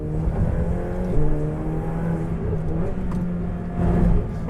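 A Ferrari 488 Pista accelerates on an open road, its engine a loud, close drone heard from inside the car, with tones climbing and then shifting as it moves through gears.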